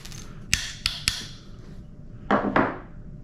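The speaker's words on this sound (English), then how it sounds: "I'm going to take my hammer here. I'm going to give it some good taps." Hammer tapping the sear cage of a CZ P01 pistol during disassembly: three sharp metallic taps close together, a pause, then two firmer knocks, heard close up with no talking.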